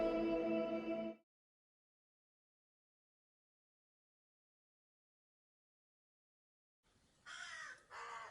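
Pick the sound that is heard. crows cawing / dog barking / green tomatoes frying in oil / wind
crows cawing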